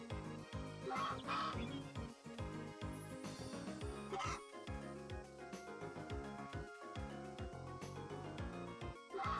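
Farm ducks quack repeatedly in Story of Seasons A Wonderful Life, cartoonish quacks popping up over a bouncy game music backing throughout.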